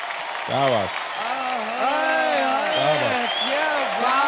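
Studio audience on an Indian dance competition show applauds and cheers after a couple's performance, a steady wash of clapping under a lively host talking over it.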